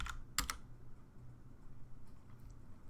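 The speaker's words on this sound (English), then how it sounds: "Type in our password." A short cluster of crisp keystrokes on a computer keyboard as a password is entered, followed by a few faint scattered taps in a quiet room.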